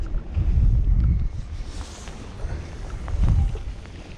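Gusty coastal wind after a storm buffets the microphone in strong low rumbling surges, easing and then building again.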